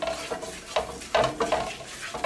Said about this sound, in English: I'm going to mix that around until I smell it.